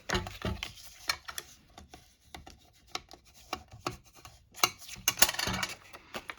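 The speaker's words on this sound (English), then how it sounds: "You see how I'm just kind of rubbing my bone folder over it?" A bone folder rubs and burnishes a paper fold on a Christmas cracker fun-fold card, making a series of close, scratchy strokes and brisk swipes with short pauses between them.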